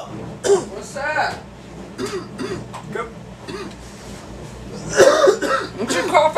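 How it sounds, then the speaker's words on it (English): A person coughs several times in harsh, throaty bursts at close range, with more coughing near the end, mixed in among loud voices talking and reacting in a tense household scene. "What you coughing and shit for?"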